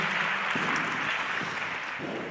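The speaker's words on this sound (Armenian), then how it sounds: "եկեք մի հատ էլ ծափարենք" Audience applause at the opening of a first national youth assembly, a steady dense clatter of many hands clapping together for a couple of seconds, fairly even in loudness with no voices over it.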